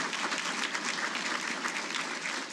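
A large audience claps in a dense, even burst at a Hall of Fame ceremony, the steady applause filling the room at full strength from start to finish without any talk.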